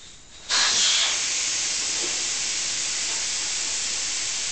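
Once the valve core is pulled from a tire's valve stem, air rushes out in a sudden loud, close hiss that holds strong and steady for several seconds.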